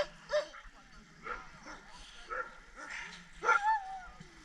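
Several sled dogs yip and whimper in quick, excited bursts, fairly close, with a person's voice briefly mixed in.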